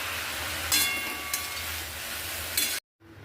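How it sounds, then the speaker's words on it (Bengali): Water lily stems hit hot oil with nigella seeds in a home kitchen, making a steady loud sizzle with a few clinks of utensils before it suddenly drops off. "এবার কালো জিরা ফোড়ন দিয়ে সমস্ত শাপলাগুলো ছেড়ে দেব।"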